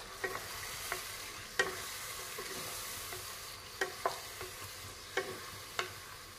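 Spoon stirring coconut milk into a simmering curry in a pan, with a soft sizzle underneath and a series of sharp scraping clacks against the pan at irregular intervals.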